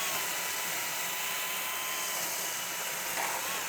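A power drill drives screws into a timber window frame in a wood-frame wall, a continuous high whirring that holds steady and loud throughout.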